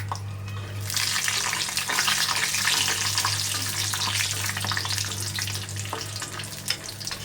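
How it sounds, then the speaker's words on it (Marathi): Peanuts frying in oil in a kadhai, with a loud, bright sizzle starting after a quieter moment and continuing steadily, plus a low steady hum underneath and occasional clinks. "इथे मी सुरुवातीला शेंगदाणे टाकणार आहे, म्हणजे शेंगदाणे छान असे परतले जातील तेलामध्ये"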